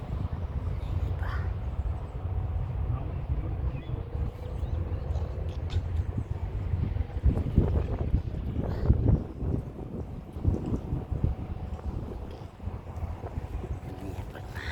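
Wind gusts through a park in Barcelona, buffeting the microphone with steady low rumbling that swells and becomes louder and more turbulent midway, with faint voices briefly in the background.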